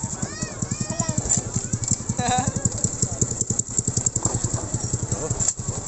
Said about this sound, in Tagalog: Ang daming motor dito.